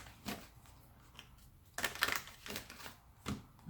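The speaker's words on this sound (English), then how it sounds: "let's just do a few more shuffles" Cards riffle and snap in a few quick bursts, crisp ruffling rattles with brief pauses between, close by and fairly quiet.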